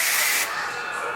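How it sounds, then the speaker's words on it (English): A spray can hisses in a steady, close burst, starting strong and easing slightly softer for the last part of the spray. "I'm gonna spray this here."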